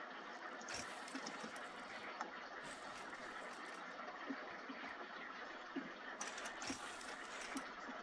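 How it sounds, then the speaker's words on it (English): Blocks being welded back together in a monorail car build game give a quiet mechanical ratcheting, clicking whir that runs steadily with small bursts of sharper hiss, heard alone without talk. "And then we weld back together."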